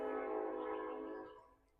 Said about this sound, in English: Sorry, train's coming through.